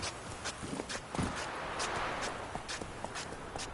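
Roach the horse from The Witcher 3 on PlayStation 4 Pro trots along, her hooves clip-clopping in a steady, evenly spaced rhythm at close range over a faint ambient bed.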